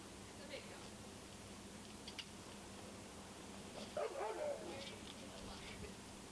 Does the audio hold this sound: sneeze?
no